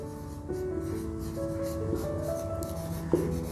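Steady scratchy writing on a classroom board during a Class 12 maths lesson, continuous strokes at an even level with a faint tonal hum underneath and a small tap near the end.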